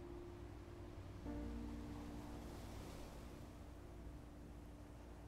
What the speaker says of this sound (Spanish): La espuma del agua choca contra las rocas.